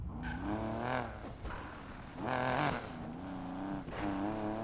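A Buick GNX in Need for Speed Payback, set up as a drag build, revs loudly with rising engine pitch sweeps and tire squeal, surging twice in strong bursts with no talk over it.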